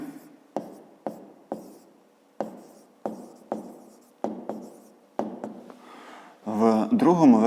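A pen writes maths answers in a school exercise book, about a dozen crisp taps and strokes at a steady pace close up, followed by a voice speaking at the end.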